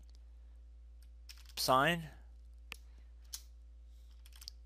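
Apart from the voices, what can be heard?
typing a command on a computer keyboard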